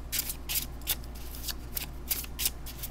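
A deck of cards is riffle-shuffled close by, making repeated crisp, fluttering bursts roughly every half second over a low steady hum, with no talking.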